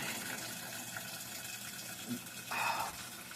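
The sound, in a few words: water falling inside a Whirlpool WTW4816FW3 washer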